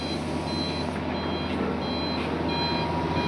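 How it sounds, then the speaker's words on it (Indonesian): A dump truck waits to load beside an excavator at a river normalization earthworks site, its reversing alarm beeping in a steady repeating pattern over a constant engine rumble. "Dan ini ada dump truk yang keempat ya teman-teman, bersiap untuk melakukan proses loading."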